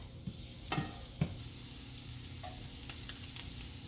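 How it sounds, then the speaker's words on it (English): Tofu and carrots sizzle quietly in a pan with seasonings, broken by a few soft knocks and scrapes as the pieces are tossed, with no one talking. "toss everything around with the seasonings and let them cook for a few minutes"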